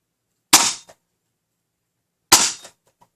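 Two sharp, loud shots from a Kumedal Double Trab toy dart blaster, each a short snappy burst of air followed by a quick rattle, about two seconds apart with silence between.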